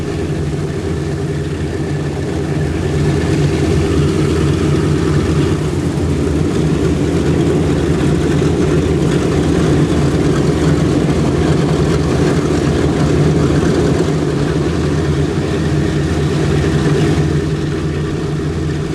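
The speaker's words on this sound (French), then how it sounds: "la mise en route des 4 moteurs est toujours aussi spectaculaire" The four engines of a propeller airliner at an airshow in Melun drone heavily and continuously after starting, a loud low throb that holds steady throughout.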